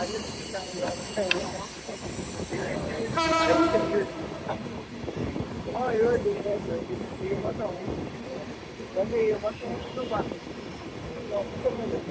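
A train rolls along the rails through the Dayaganj underpass in Dhaka, a steady rumble with hissing and a short horn-like blast early on, while a voice talks over the running noise.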